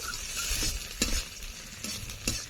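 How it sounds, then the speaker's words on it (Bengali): Chopped onions fry in a pan, giving a continuous soft sizzle with a few sharp scrapes and clinks of a spatula stirring, close and brief, with no talking. "পেঁয়াজটা ভাজা হয়ে গেছে আর একটুখানি ভাজবো"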